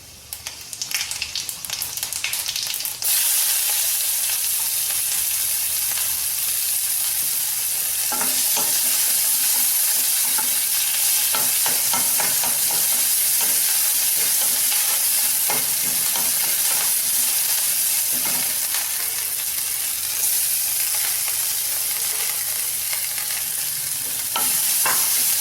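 Fennel seeds and four or five peppercorns fry in oil in a pan for a vegetable soup, giving a steady loud sizzle with occasional stirring scrapes and crackles, no voices.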